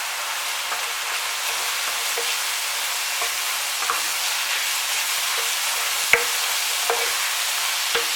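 Corn flour stirred into meat pie filling in a pan: a steady, even sizzle throughout with soft scraping strokes and a sharp tap near the end.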